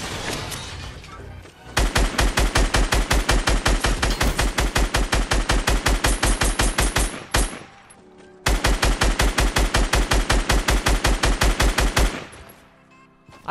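Scoped assault rifle fire in Fortnite comes in two long, rapid, evenly spaced bursts, loud and close, with a brief pause between them.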